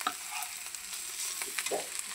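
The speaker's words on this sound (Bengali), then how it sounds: "এই যে আজকে উস্তা ভাজি করতেছি আলু দিয়ে" Bitter gourd and potatoes frying in a pan give a steady close-up sizzle, with scraping stirs and small spatters breaking through; no one speaks.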